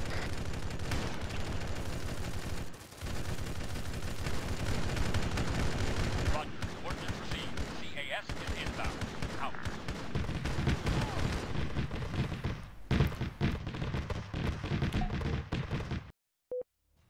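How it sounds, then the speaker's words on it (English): Sustained barrage of heavy autocannon fire raining down in ARMA 3, a dense continuous rumble of rapid impacts lasting many seconds before cutting off abruptly, with voices talking over parts of it. "I called in orbital autocannon barrage on him."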